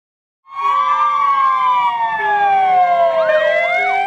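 Fire engines leave the Szent Flórián körút fire station for a parade marking 150 years of the city's firefighters. A loud, near siren wails in long descending sweeps, with further siren tones layering in toward the end.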